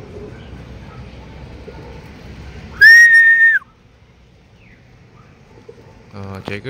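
A checkered racing pigeon arrives at a loft during a club training flight in Luisiana, Laguna, with a single loud, sustained whistle near the end of low outdoor background noise, followed by brief bursts of nearby sound.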